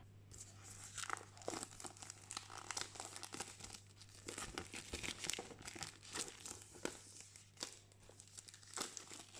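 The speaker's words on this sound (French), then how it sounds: "Du papier, du papier, du papier, encore du papier." Crinkling and crackling of paper wrapping being pulled off board game tiles from the Tamashii: Chronicle of Ascend board game during an unboxing, close and continuous with sharp rustling bursts throughout, no talking.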